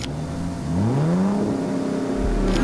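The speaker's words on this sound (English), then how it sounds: "Bugatti Veyrons like his have the biggest engine in the world, which not only allows it to take off faster than a fighter jet" A Bugatti Veyron, the fastest street-legal car at 267 mph, accelerates with a loud engine note sweeping upward in pitch over a couple of seconds, close and alone.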